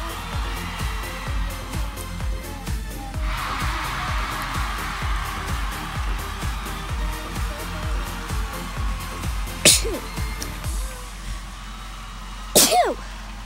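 Two sharp sneezes burst out near the end, loud and close, over a pulsing electronic game music bed with faint talk.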